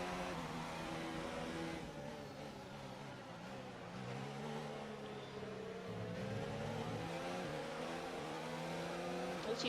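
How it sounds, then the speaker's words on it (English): A high-pitched Formula 1 car engine in the video game F1 2019 whines continuously, its pitch rising and falling as it revs through gears, with no talking. "As you can hear, the engine sounds so much more better in this car."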